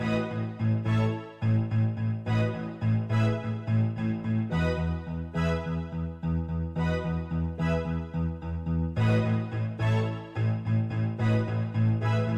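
High-pitched keyboard notes ring out in a steady, repeating pattern over a low sustained tone, played clearly and evenly with no voices.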